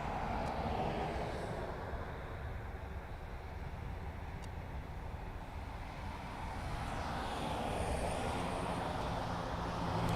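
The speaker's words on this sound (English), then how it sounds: "This ATR is coming from Donegal." An ATR turboprop arriving from Donegal rumbles at Dublin Airport, a distant, steady low drone that swells slightly toward the end, heard alone without talk.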